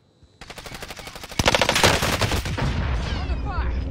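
Rapid automatic gunfire in a video game shooter, a fast run of loud shots that starts after a brief pause and grows denser and louder, with overlapping bursts and echoing reports toward the end.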